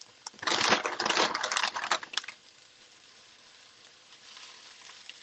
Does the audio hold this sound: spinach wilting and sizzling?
yes